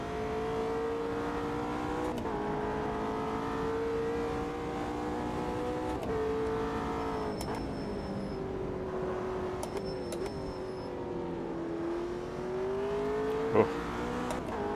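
Race car engine droning steadily throughout with gear shifts and pitch rises and falls, a GT car in the Automobilista 2 racing game, with another car running close behind.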